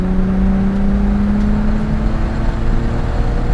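A Nissan Skyline GT-R34 accelerates down a track straight, its engine droning loudly and steadily with a rising tone from inside the car.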